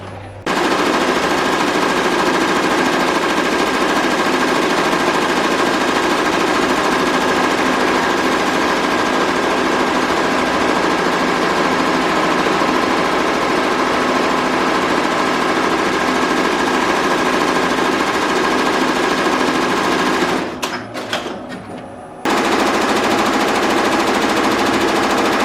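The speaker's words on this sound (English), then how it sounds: "now she's loading in the design to the Tajima machine and setting the colours ready to run" A Tajima embroidery machine stitches a logo with a loud, rapid, continuous mechanical chatter, pausing briefly near the end before resuming at the same steady pace.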